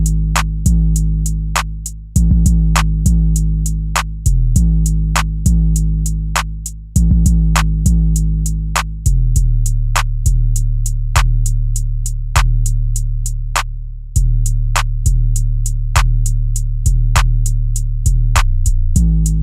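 808 bass sample loops with deep sustained booming notes and a steady, crisp hi-hat ticking over it, loud and close with no voices.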